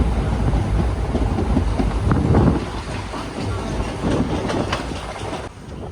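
Inside a sleeper class coach travelling from Kerala to Goa, a steady, loud rumble of the running train fills the space, with rattling and jolting knocks as the carriage shakes, plus some wind buffeting.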